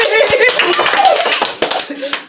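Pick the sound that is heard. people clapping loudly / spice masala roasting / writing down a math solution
people clapping loudly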